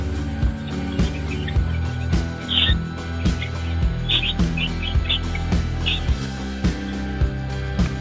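A pair of green opaline lovebirds at a bird market with finches and pigeons nearby, short bright chirps in scattered bursts over a rhythmic thumping background noise.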